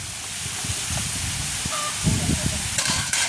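Chopped onions and green chillies drop into a hot pan already holding fish for a tamarind curry, setting off a loud steady sizzle and hiss, with a voice speaking over it.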